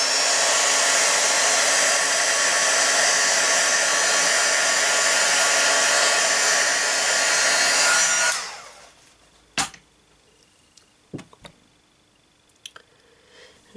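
Handheld heat dryer blowing on an inked craft petal, a loud steady whooshing whine for about eight seconds that cuts off abruptly, followed by a few faint clicks and handling taps.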